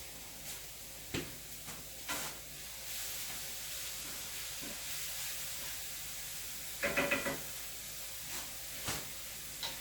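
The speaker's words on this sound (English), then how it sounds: "My peppers and onions are getting nicely cooked" Peppers and onions sizzle in a pan for shakshuka, a steady, quiet hiss with a few scattered clicks and clatters.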